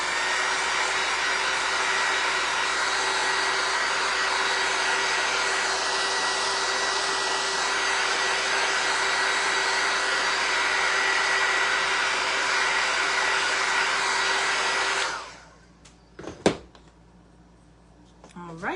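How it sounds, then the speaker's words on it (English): A dryer blows steadily and loudly on painted pieces of a patriotic shelf-sitter craft for about fifteen seconds, then cuts off, leaving quiet handling noises. "So I'm just gonna dry these real quick"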